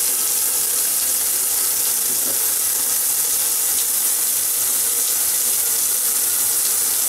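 Water runs steadily from a kitchen faucet fitted with a tap attachment, a continuous close hiss and splash that holds even throughout with no voices.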